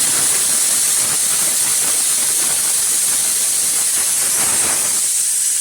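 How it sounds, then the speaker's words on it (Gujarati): Pressure cooker in a home kitchen releasing steam as a loud, continuous hiss that stays constant for several seconds. "કુકરની સીટી પડતી હતી ને મારો અવાજ આવે ને એટલે થોડોક બ્રેક લઈ લીધો"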